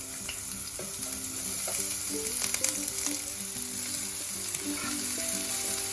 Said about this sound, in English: Frying your onions for a good 2 to 3 minutes until they're really crispy and golden